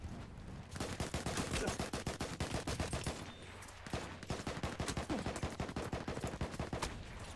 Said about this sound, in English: I am using a gun I've never used before. Venom Mercy Telescopic.